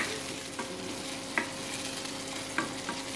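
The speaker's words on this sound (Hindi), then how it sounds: "टमाटे जो रखे थे हम ये डाल देंगे। इसे अच्छे से भून लेंगे।" Tomatoes frying in a pan with browned onions for methi matar malai, a steady soft sizzle with a few sharp spoon clinks and stirring scrapes, close and moderately quiet with no voices.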